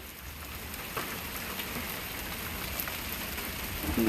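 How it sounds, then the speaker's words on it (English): Steady rain pours onto a front porch, an even, close hiss of drops pattering on surfaces without pause, with no talking. "Do you guys just love the sound of rain?"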